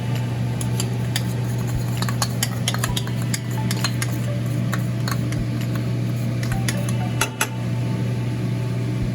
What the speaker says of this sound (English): you just want to whisk this stuff in